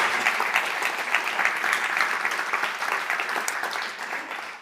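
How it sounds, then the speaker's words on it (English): Seminar audience in a room applauding panelists at the end of a discussion: a dense, moderately loud burst of clapping that holds steady, then tapers off at the end. "I would like to give a huge hand of applause for our panelists."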